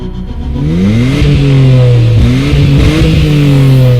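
An unmodified Nissan R34 Skyline GT-R revs hard nearby, a loud, steady engine roar that climbs in pitch, dips and climbs again with no voices.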